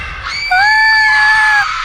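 A girl in an animated horror story lets out one loud, shrill scream lasting about a second, sharp and close over a low background hum.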